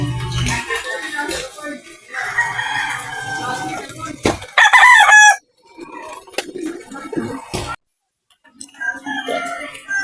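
A gamecock rooster crows loudly nearby in a few bursts, with clucking and handling noises between calls.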